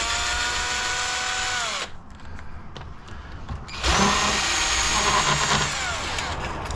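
A power drill whines at close range while backing screws out of a bracket on an H-Calory diesel heater, with two loud sustained runs separated by a short pause of quiet handling noises.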